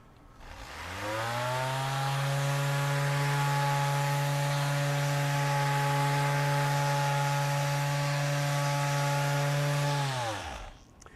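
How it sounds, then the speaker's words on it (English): A Metabo 18V brushless 6-inch random orbital sander with 40-grit paper, turned up to speed setting 10 on a wood board, spins up to a loud, steady whining hum for about nine seconds, then winds down. "we're testing the sander, right?"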